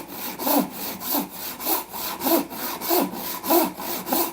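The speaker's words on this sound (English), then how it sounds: "This is a panel rip saw, which works quite effectively. We'll start here and saw away the waste" A panel rip saw cuts away waste wood from a table leg held at an angle in a vise, making steady, rhythmic rasping strokes, about eight back-and-forth passes, close and alone.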